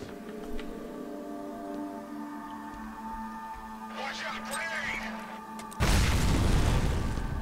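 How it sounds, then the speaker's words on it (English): A grenade in the first-person shooter F.E.A.R. bursts suddenly and loudly near the end, a broad booming blast cutting through steady in-game background noise and music. "Watch out, grenade!"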